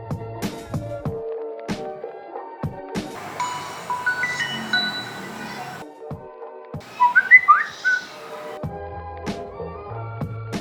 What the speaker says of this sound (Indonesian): ternyata siulannya tadi itu karena lemah baterai nih